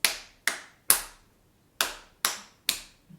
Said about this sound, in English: tapping the rhythm would sound like this